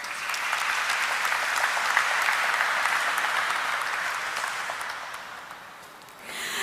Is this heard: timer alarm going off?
no